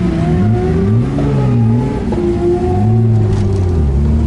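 A human voice imitates a Ford XR6 Turbo race car accelerating at a roll racing event, a loud, close, continuous droning engine note that rises and falls in pitch as if shifting through gears.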